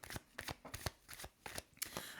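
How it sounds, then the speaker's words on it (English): A deck of tarot cards being shuffled by hand, slowly and deliberately: a quiet series of soft, close riffling snaps in an uneven rhythm, with no talking. "It's forcing me to slow my shuffling down"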